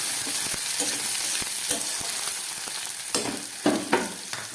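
Potatoes and tomatoes with green chillies frying hard in a pan, a loud continuous sizzle broken by scraping stirs and a few sharper clatters near the end, no voices.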